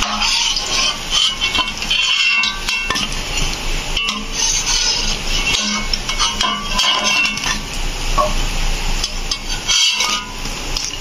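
Fried fish fingers are lifted from hot oil onto a tissue-lined plate, with continuous clinks and taps of utensils over a steady bright sizzle, loud and close.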